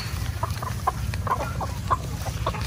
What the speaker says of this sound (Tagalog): Matatapang yung mga lahing manok na ito